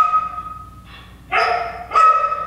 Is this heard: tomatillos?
no